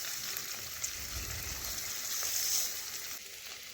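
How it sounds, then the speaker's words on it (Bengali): Paneer cubes frying in hot oil in a wok, a steady close-up sizzle and crackle that swells slightly midway, with no voices. "তো পনিরগুলো লাল লাল করে ভেজে নিয়েছি"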